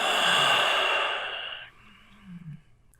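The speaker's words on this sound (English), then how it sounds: "Exhale all the way out." A single long, deep exhale during yoga breathing, a strong breathy rush that fades out after about a second and a half, followed by quiet.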